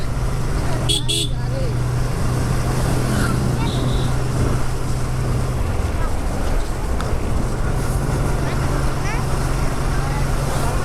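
A motorbike rides along a green village road in the late afternoon, its engine a steady close drone throughout, with occasional horn toots and passing traffic noise and a voice talking at points.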